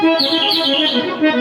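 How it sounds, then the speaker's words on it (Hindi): A bird chirps in quick high tweets over a sustained tonal musical background, filling the whole short moment at fairly loud level. "चिड़िया बोलने लगी।"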